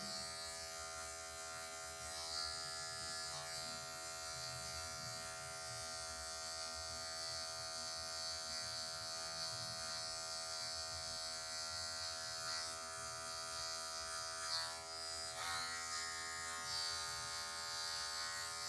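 Electric hair clippers buzzing steadily and close by throughout while cutting a mid fade haircut, with a constant motor hum and slight shifts as the blade moves, no talking.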